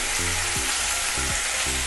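Mixed vegetables and paneer fry in a pan with a loud, steady broadband sizzle, with a few soft stirring knocks and no clear talk.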